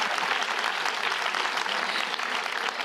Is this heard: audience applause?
yes